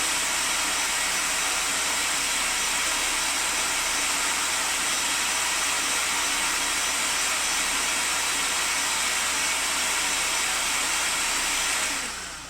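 A blender runs nonstop on red chile sauce ingredients for a Mexican-style sauce, a loud, even high-pitched whir that holds steady for about twelve seconds before cutting off, with no talking.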